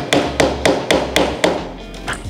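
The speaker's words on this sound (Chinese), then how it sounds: "右手拿锤，左手拿起子" A hammer taps while flat-packed wooden furniture is taken apart, with about five sharp, evenly spaced knocks close by and then softer fading taps.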